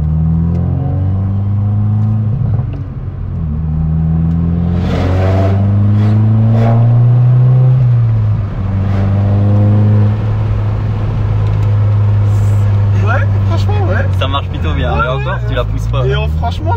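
A Volkswagen Scirocco R engine revs up through several rising pulls, loud and close from inside the car, its tone climbing and dropping as the driver accelerates while a voice talks over it.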